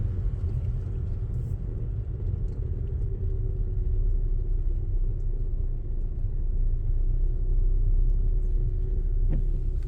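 A car crawls through rush hour traffic, its cabin filled with a heavy, steady low rumble of engine and road noise that swells a little toward the end, without speech.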